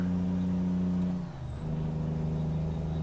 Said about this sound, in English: The Jake brake sound, terrible.